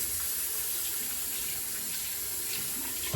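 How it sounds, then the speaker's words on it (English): Water runs steadily from a tap while a hairpiece is rinsed under it, a close, continuous hissing splash throughout. "So I'll run it under the tap as well"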